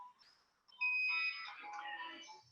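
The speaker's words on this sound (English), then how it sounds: "Mostly the beeping of the generator and the voice announcing of the shot." An X-ray generator gives electronic beeping tones with a sustained high pitch, brief and moderately loud, with no talking.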